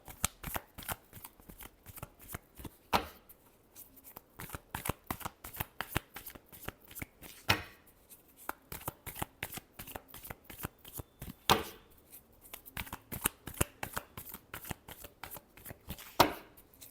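Tarot cards being shuffled by hand in a rapid, steady run of crisp riffling slaps for the whole stretch, close and fairly quiet, with a few louder bursts along the way and no talking.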